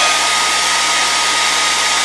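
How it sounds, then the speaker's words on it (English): A small hair dryer dries contact glue on puppet legs and feet, running as a loud, close, unbroken whir from start to finish. "Got my little hair dryer on here."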